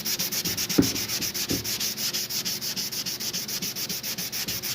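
Sandpaper rubs by hand over a glazed stereo build part for a four-seat RZR, a steady rhythmic back-and-forth scratching up close, strokes repeating quickly and evenly with no talking.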